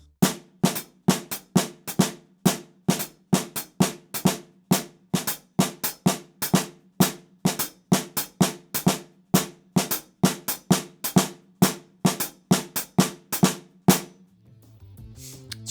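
A fast, steady stream of sharp drum hits in an interlocking four-over-five polyrhythm, evenly loud and close, ending with a brief low rumble.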